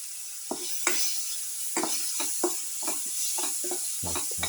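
Tomato pieces sizzle and crackle in a casserole dish, with a steady frying hiss and a series of stirring scrapes and clinks near the microphone.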